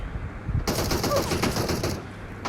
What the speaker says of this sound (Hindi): फिर यहाँ से मुझे गोलियाँ पड़ती हैं, आप खुद ही देखें।